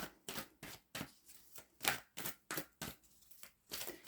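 A deck of tarot cards is shuffled over and over, giving about a dozen quick, evenly spaced papery riffle bursts, close by and fairly quiet, with no talking.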